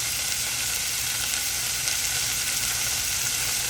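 Ground meat fries in olive oil in a pan, giving a continuous close sizzle and crackle that stays even throughout, with no talking.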